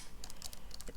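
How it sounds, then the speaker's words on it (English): Typing on a traditional-style computer keyboard with a notepad open, a quick run of crisp key clicks in irregular bursts, close and clear with no talking. "So this keyboard is a very traditional style keyboard."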